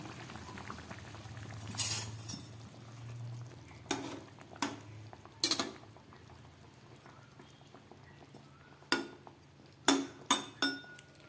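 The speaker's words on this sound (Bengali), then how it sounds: "মাছের ঝোলটা ফুটে উঠেছে" A pot of Bengali fish curry with salt and slit green chillies boils steadily, a low continuous bubbling broken by occasional sharp clinks of utensils against the pot, close and fairly quiet.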